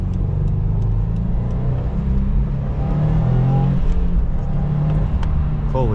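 A 400-horsepower all-wheel-drive Subaru STI accelerating, a loud, close, continuous engine roar with deep rumble and shifting tones throughout.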